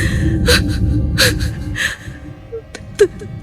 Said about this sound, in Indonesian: suara hembusan nafas.